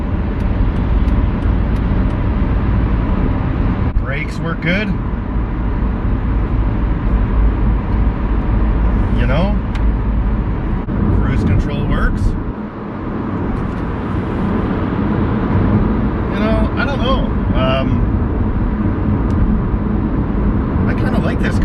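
A Chrysler PT Cruiser with a repaired P0513 fault cruising on the highway, a steady broad road and engine drone continuous throughout, with someone talking over it from inside the cabin.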